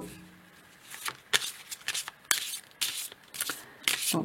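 Tarot cards being shuffled by hand at close range, a series of crisp riffling bursts repeating irregularly across the stretch with short pauses between them.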